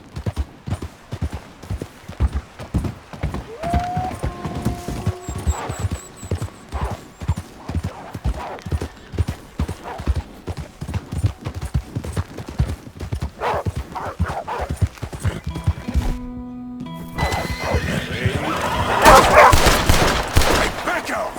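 Horse hooves clip-clop steadily and close while riding in Red Dead Redemption 2, a rhythmic trot that runs throughout, with bursts of gunfire, shouting and other commotion rising near the end.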